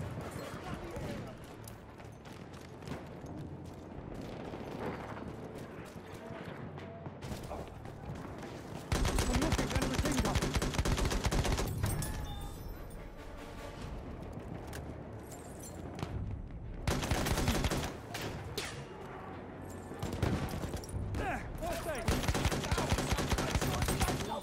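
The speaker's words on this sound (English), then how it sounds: "Machine gun! Hostile!" Bursts of machine gun fire crackle through the chaos of a Battlefield 1 battle, dense and overlapping with other gunfire and explosions throughout, growing louder around the middle and near the end, with voices talking over the fighting.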